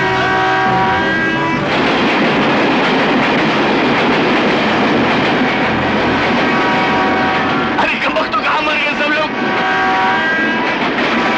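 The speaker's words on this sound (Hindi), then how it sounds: "ट्रेन आ रही है।" A train approaching in a Hindi film scene, a loud steady rumble of wheels and engine filling the clip with a shift partway through, mixed with film sound and talk.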